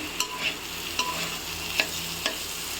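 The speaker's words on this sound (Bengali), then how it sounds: "লাল লাল করে ভেজে নেব" Boiled pointed gourd frying in a pan, a quiet steady sizzle broken by a few sharp scrapes of a spatula stirring at irregular intervals, with no voices.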